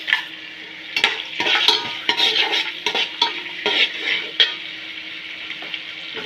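Whole spices, bay leaf, fennel seeds, star anise, cinnamon and cardamom, sizzle in hot oil in a home kitchen pan, with a spoon stirring and scraping in repeated bursts over a steady frying hiss.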